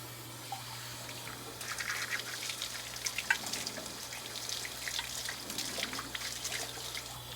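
Water running and splashing as cleaner is rinsed off the cab of an old train, a steady broadband spray with a constant low hum underneath, moderately close.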